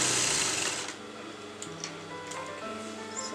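A sewing machine runs a straight stitch along a kurta neckline, a brief run of quick, even mechanical ticking that is fairly close and steady throughout.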